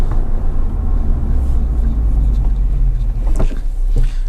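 Honda Civic Type R engine running with a loud, steady low rumble close by, a few brief rev surges near the end as the driver seeks revs.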